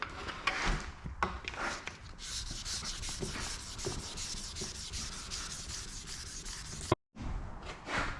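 A 3D-printed part is block sanded with 800 grit sandpaper in steady back-and-forth rubbing strokes, close and fairly soft, with a brief pause near the end before the strokes resume.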